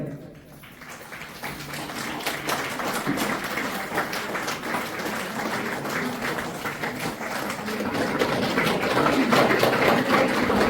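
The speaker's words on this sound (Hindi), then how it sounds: "जोरदार ताली, जोरदार।" At a senior trainers' conference, an audience gives loud applause after a guest is honoured with a garland and bouquet. The dense clapping continues throughout and grows stronger toward the end.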